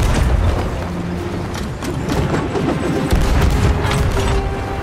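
Chain shot cannon fire from ships in the video game Sea of Thieves, a loud, continuous barrage of booms and rattling impacts rolling on without pause.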